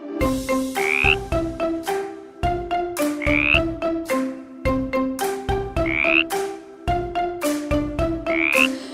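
Frog croaks set into a children's song sound as repeated, evenly timed croaking bursts in a bouncy musical pattern, steady and prominent with no voices.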